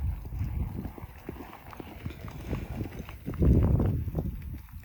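Horse loping, its hooves thudding in a steady, rocking three-beat rhythm on soft ground, close by, with one heavier stride near the end.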